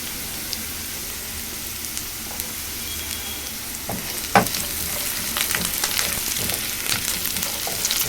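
Potato pieces frying with salt in oil for Maharashtrian sabudana khichdi, giving a steady, even sizzle throughout with occasional soft stirring clicks and small pops, close and moderately loud.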